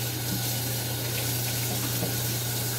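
Hot water runs steadily from a kitchen tap into the sink, a constant close rushing stream with a low hum beneath it and no break across the clip.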